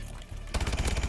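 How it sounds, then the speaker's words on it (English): A rapid-fire gun in Call of Duty starts shooting midway, producing a loud, dense burst of quick repeated shots that runs to the end after a quieter opening. "this gun is fast. Oh. Rapid fire."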